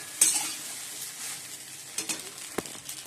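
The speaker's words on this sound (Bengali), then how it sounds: "ভাত ভাজা করবো, ভাত রয়েছে কালকে।" Leftover rice being stir-fried in a pan in a home kitchen: a soft continuous sizzle with a utensil scraping and tapping the pan in irregular strokes, louder knocks near the end, no talking.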